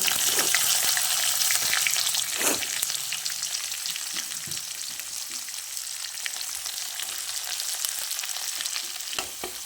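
Onions sizzle steadily in hot oil in a pan for a cauliflower masala curry, a dense continuous crackle close by with occasional stirring scrapes and no voices.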